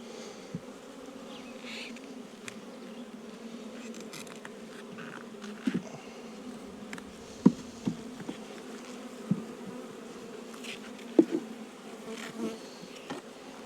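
Honey bees buzz around an open hive frame during a nuc-to-hive inspection, a constant close drone with occasional soft taps and clicks.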